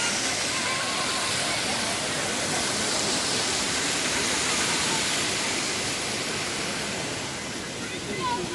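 Stream water flows continuously in Karaisalı Karapınar Park, a loud, even rushing wash with no break and no voices.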